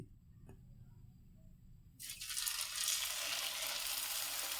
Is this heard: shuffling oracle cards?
no